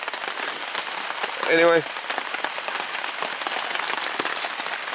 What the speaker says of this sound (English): listening to the rain, and of course, I just love the sound of it on the tarp